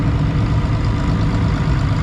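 A 1966 International Harvester 806 tractor engine idles steadily and loudly nearby, a deep continuous low rumble with an even pulsing beat and no talk over it.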